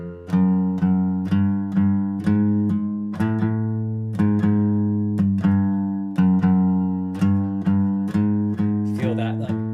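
A guitar plays a rhythm on its low sixth string, plucked notes in a repeating sixteenth and dotted-eighth pattern, each attack ringing briefly and loudly, with a scrape of string noise at the end.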